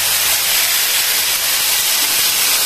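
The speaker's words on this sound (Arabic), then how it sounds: "هكذا نخلوه يتقلى ويذبل معنا" Chopped onions and chard sizzling and wilting in a frying pan for a stuffed chard quiche, a loud, close, continuous hiss with no pauses or voices.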